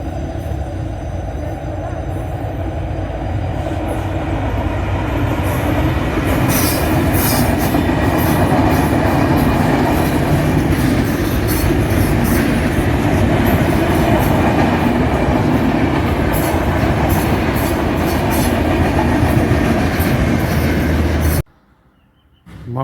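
A train rolls through the Biral railway level crossing in Dinajpur, Bangladesh, with a long, loud, continuous rumble and rhythmic clatter of wheels close by, ending abruptly.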